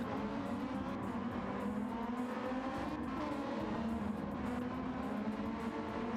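Spec Honda Civic race cars roar down the long back straight at Streets of Willow, a steady loud engine drone with layered revving as the pack passes, continuous throughout with no talk.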